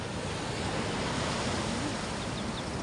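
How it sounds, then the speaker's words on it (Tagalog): Ocean surf rolling in continuously with growing waves, a steady broadband wash of breaking water mixed with some wind noise, no voices. "Dumami na mga alon."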